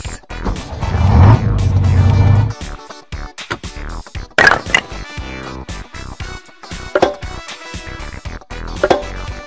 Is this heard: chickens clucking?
no